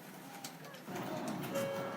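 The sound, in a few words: Sakura tram streetcar in Tokyo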